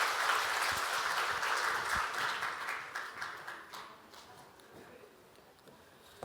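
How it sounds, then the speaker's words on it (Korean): A church congregation applauds at a Sunday worship service, a dense crowd of clapping that starts loud and gradually thins and fades over several seconds. "우리 박수하겠습니다"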